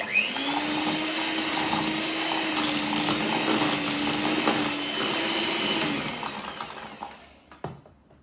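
An electric mixer beats icing sugar on slow speed, making a steady, fairly loud motor whir that holds for several seconds, then winds down and stops, ending in a brief clatter.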